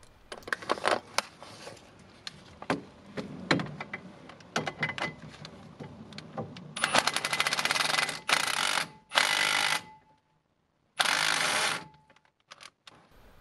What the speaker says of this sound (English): this is just me doing the sort of final tightening with the rattle gun before I torque them up